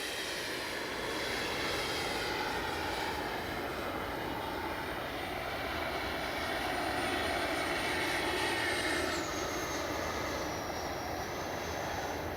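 A radio-controlled jet with a Baltic Bees afterburner scheme flies with a steady, loud roar and high whine that holds throughout, its tone shifting slightly as it passes.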